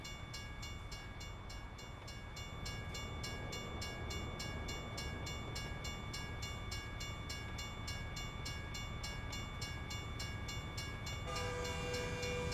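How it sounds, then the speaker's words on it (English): Trucking video game train rumbling past steadily with clickety-clack and a sustained multi-tone horn blaring throughout, loud and close, with the horn shifting pitch near the end. "I hear one, I don't see one though."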